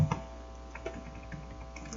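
Keys clatter on a computer keyboard while answering a GTQ Photoshop exam question, a quick burst of taps at the start followed by sparse, soft clicks at close range with no talking.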